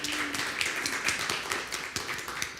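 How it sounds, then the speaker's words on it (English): Scattered clapping from a church congregation during a Sunday live stream, a modest, uneven patter of individual claps rather than a full ovation, fairly close and without talking. "I think that's an okay applause"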